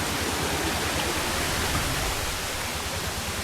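A small waterfall pours steadily along a trail path, a continuous broadband rush of falling water, close and even in level with no voices.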